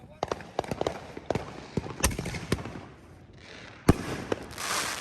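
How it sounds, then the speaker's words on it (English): Phantom Fireworks Bazinga Blast 7-shot cake fires a run of sharp cracking pops and bangs outdoors, uneven and moderately close, with people talking and noise in between. "let's demo off Bazinga Blast 7-shot by Phantom brand fireworks"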